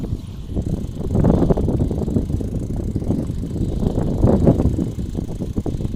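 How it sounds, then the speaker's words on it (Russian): A motorcycle races along a road above fields of white dandelions in Ukhta, Komi Republic, its engine a steady broadband roar held close and loud for the whole stretch, swelling slightly midway. "О, мотоциклист наверху гоняет."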